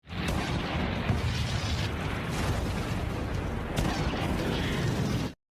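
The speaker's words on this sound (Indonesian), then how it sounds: "Dia mengeluarkan meriam sakti dan menembakkannya secara dahsyat ke arah si naga." A huge, sustained anime magic cannon blast fired at a dragon roars continuously for about five seconds, dense and rumbling, with a couple of sharper bursts before cutting off abruptly.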